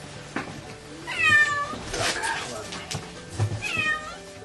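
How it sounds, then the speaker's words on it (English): A stray cat caught in a car wheel in St. Petersburg, Russia, gives a few distinct meows, rising and falling cries around the middle and end, with rescuers' voices and street noise underneath. "The rescuers in St. Petersburg, Russia, rushed to help a cat that somehow had got stuck in a car wheel"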